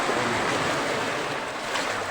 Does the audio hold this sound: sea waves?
yes